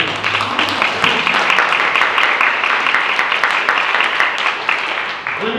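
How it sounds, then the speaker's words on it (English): Parents meeting with the LAUSD superintendent applaud, a dense, steady wash of clapping from many hands in a room, continuous for several seconds before easing off. "And you can clap for that."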